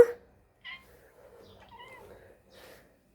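A house cat meows several times, short separate calls spread across a few seconds, close and fairly soft, with a quiet room between the calls.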